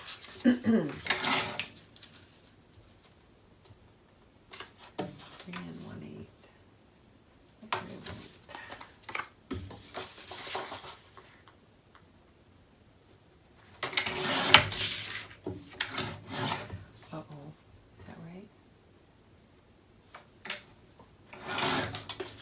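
Paper being trimmed for a Stamperia Grand Hotel mini album, with several bursts of rasping cuts and rubbing separated by quiet gaps, fairly close and moderately loud.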